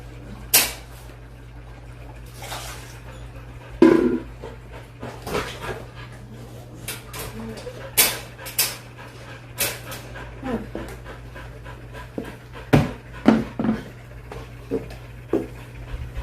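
Dogs pant and whimper close by at night, with quick breathy bursts and soft whines coming at irregular intervals over a low steady hum in the room.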